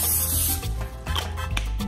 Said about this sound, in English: before we put the drumsticks into the baking sheet, I have to spray it.